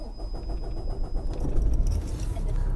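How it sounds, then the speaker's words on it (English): A truck engine cranks and catches, a keyed ignition with a high whine giving way to a rising diesel rumble that settles into a loud, close idle. "I'm going to go ahead and start my engine."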